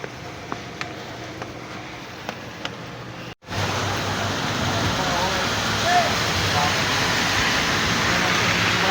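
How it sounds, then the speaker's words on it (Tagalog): Steady rain falls on a street corner where a queue of vehicles waits, a broad continuous hiss that thickens after a brief dropout, with a few faint knocks early on and no talk. "Ayan, umuulan."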